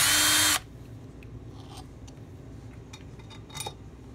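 A power tool zips out a screw from a Kawasaki KE100 engine case in a short loud burst, followed by faint clinks and taps of small metal parts being handled.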